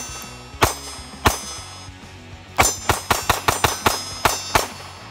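Springfield Hellcat pistol shots, a pair of sharp cracks followed by a rapid string of about ten more, loud and close with brief ringing decay between shots.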